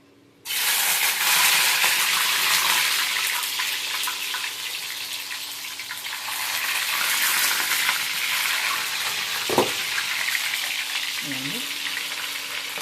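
Raw banana slices frying in hot oil in a batch, a loud, steady sizzling hiss that starts abruptly and runs throughout, with a single clink of a utensil near the end and no talking.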